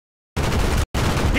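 Gunfire in the Black Ops 1 video game: two loud, dense bursts of sustained shooting, the second starting right after a brief gap.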